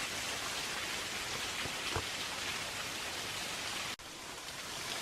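Steady broadband splashing of a small waterfall sheeting down close by in a Tennessee nature preserve, continuous and even with no voices.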